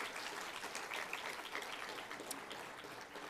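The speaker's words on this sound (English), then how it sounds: "Let's have a round of applause for Picture Shop." An audience at the Canadian Cinema Editors Awards gala in Toronto applauding, sustained, dense clapping heard from across a large hall at moderate volume with no break.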